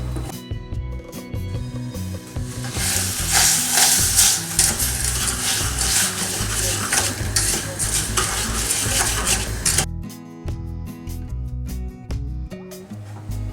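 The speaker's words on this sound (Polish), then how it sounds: "Do garnka przekładamy maliny i cukier i zakotowujemy mus." A spoon stirs and scrapes inside a pot of raspberries and sugar over a soft bubbling simmer, with metallic clinks; the activity eases off near the end.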